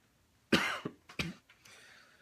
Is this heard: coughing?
yes